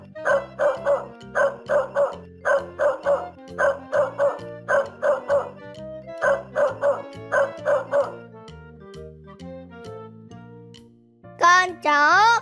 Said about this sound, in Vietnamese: Đây là con chó.